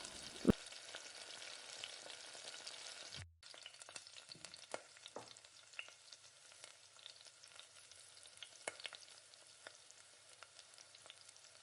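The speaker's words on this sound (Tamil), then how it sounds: "இப்போ கட் பண்ணி வச்சுருக்க வெங்காயத்தை எல்லாத்தையுமே சேர்த்து எண்ணெயிலே நல்லா வதக்கிக்கணும்." Chopped onions sautéing in oil for chicken biryani, a steady close sizzle with occasional stirring scrapes and a brief break in the middle before the frying hiss resumes.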